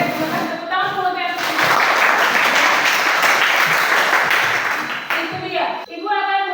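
A classroom bursts into hearty clapping from students during a lesson. It builds quickly to a dense, loud round that lasts several seconds before fading, with voices speaking briefly at the start and end.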